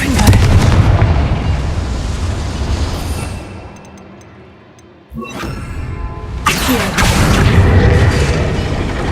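Confringo fire spell blasting in a video game, loud booming explosions with a brief lull and a sharp burst midway, then continued heavy rumbling blasts.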